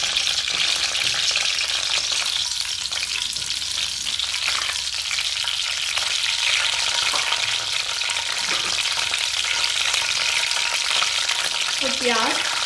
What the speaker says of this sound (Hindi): अब इसमें मैं जीरा ऐड करती हूँ और इसको हल्का सा फ्राई कर लूँगी।